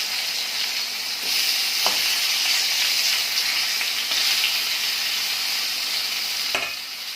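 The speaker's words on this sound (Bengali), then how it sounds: "আর এইখানে মাছগুলো এখন ভেজে নিই" Fish sizzling steadily in a frying pan, a bright, continuous hiss of hot oil with a few faint clinks, close and fairly loud, with no talking.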